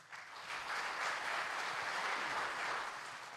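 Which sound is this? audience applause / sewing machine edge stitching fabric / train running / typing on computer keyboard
audience applause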